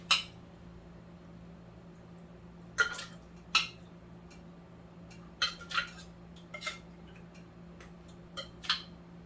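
A metal ladle scoops homemade tomato soup from a pot, giving sparse, sharp clinks and knocks against the rim at irregular intervals over a low steady background hum, with no talking.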